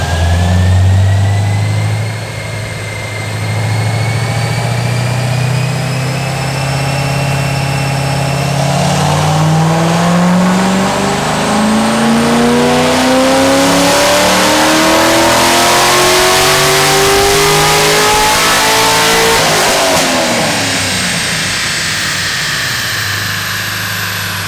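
A 2022 Suburban with a Corsa exhaust and a stage 3 427 engine revs on a dyno, the engine note rising steadily through a long, loud pull before easing off at the end.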